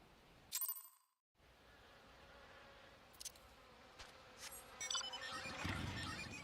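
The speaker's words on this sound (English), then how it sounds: "It's bees." Bees buzz in Final Fantasy XIV, a faint insect drone with brief louder swells, broken by a short silence and a few chime-like game effects.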